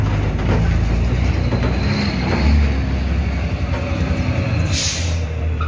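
A truck's air brake releases in a loud hiss over steady engine rumble and road noise heard from inside the cab, with a sharper burst of air near the end.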